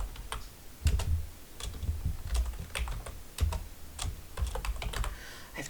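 Computer keyboard keys being typed in irregular bursts of close, crisp clicks, with a low background hum and no talking.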